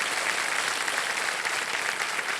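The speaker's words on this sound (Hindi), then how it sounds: "तालियों के साथ इनका स्वागत किया जाए।" Studio audience on the KBC quiz show applauding to welcome a contestant to the hot seat, a dense, even wash of clapping that stays loud and steady for a couple of seconds with no voices.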